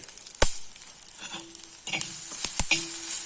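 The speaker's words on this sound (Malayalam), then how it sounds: "അതുകൊണ്ട് നന്നായിട്ട് കടുക് വറക്കണം" Mustard seeds crackle in hot oil for a tapioca upma, with grated coconut going in, sharp scattered pops and spatters over a low sizzle, close but fairly quiet, no talking.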